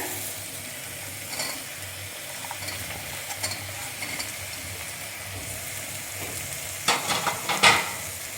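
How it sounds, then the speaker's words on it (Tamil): Beetroot is added to onion and tomato and sautéed in a pan, giving a steady low sizzle with light scraping, then a burst of louder clattering stirring near the end. "அந்த பீட்ரூட்டை ஆட் பண்ணிக்கோங்க"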